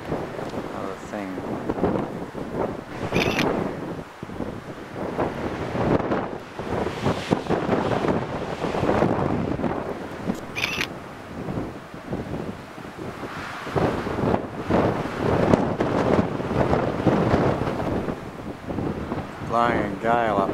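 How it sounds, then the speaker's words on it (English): A strong gale buffets the microphone at a coastal lookout near a lighthouse in Freycinet National Park, a loud, continuous roar with gusting surges and someone talking over it. "Blowing a gale up here."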